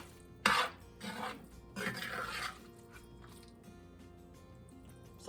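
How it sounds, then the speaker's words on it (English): A creamy, cheesy meat filling for stromboli is mixed in a bowl, heard as a few soft, wet scraping and stirring strokes with quiet pauses between them. "I'm going to mix my meat up because look how creamy and cheesy that looks"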